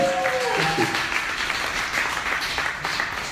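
Audience applause for two musicians at an intimate live acoustic music session, a steady wash of clapping from a crowd in a small room, moderately loud and continuous throughout.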